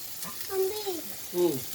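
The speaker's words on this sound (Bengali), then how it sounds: "এবার দিয়ে নিচ্ছে কিউ করে রাখা পটলগুলো" Diced pointed gourd hits a hot pan and sizzles in a soft, steady hiss, with faint voice-like tones rising briefly over the frying.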